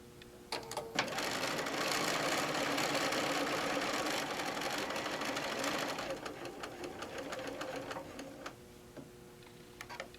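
A sewing machine stitching fabric for a pincushion runs in a fast, steady whirring burst that lasts several seconds, then slows and stops, with faint handling noises before and after.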